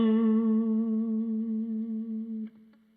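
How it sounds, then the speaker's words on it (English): An electric guitar with an effects-laden tone holds a single sustained note that slides subtly a half step up and back down. It rings loud and alone, then cuts off with a small pick scrape near the end. "we're just focusing on that little half-step slide up and down"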